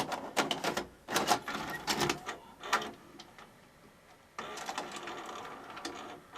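A Sony SLV-SE810 VHS video recorder loads a tape with a series of close mechanical clicks, whirs and clunks, followed by a steadier running mechanism hum from the deck.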